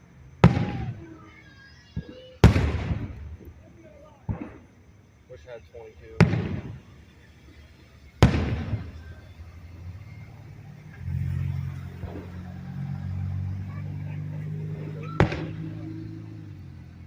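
Several loud, sharp Fourth of July fireworks booms at irregular intervals, each with a short echoing tail. A voice speaks briefly and a low helicopter-like rumble hums between blasts.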